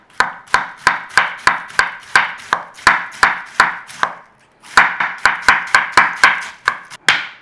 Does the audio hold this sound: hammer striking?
no